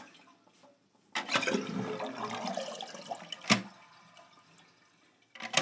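A Glacier Bay dual flush toilet with a slow leak, its water supply shut off, flushes to drain the tank: a gurgling rush of water that tapers off, then sharp plastic clicks and a final splash.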